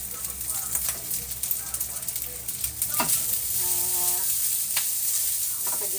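Food sizzles and fries steadily in a hot pan with oil, a constant crackling hiss. Occasional scrapes and stirs run over it, and a soft voice is heard briefly.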